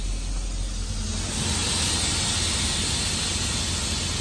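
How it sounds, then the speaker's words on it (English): A loud, steady hiss of escaping air rises after a low rumbling start and continues unbroken as the rear air suspension of a Chevy 6500 flatbed rollback tow truck lowers. "You hear the air suspension going on."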